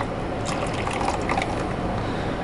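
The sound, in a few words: cornstarch mixture poured into rose hip soup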